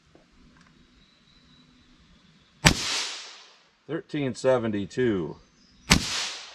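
Two sharp, loud rifle shots fired with Aguila Interceptor .22 LR rounds, one near the start and one near the end, each ringing out briefly; a voice reads out numbers between them.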